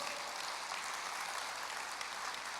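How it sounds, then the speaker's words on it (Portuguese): A congregation claps in praise during a church service, a steady, even wash of many hands, moderately quiet and sustained with no talking over it. "Vamos aplaudir ao Senhor."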